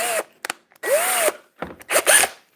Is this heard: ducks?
no